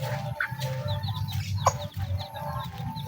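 Farmyard chickens cluck in short, scattered calls close by, over a low steady background hum, with no talking.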